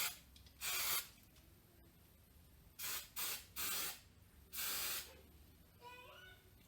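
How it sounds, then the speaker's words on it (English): Hairspray misted onto naturally curly hair in short hissing bursts, about five sprays of varying length separated by quiet pauses, close and fairly loud. "So I'm just going to mist a little bit with some of this hairspray."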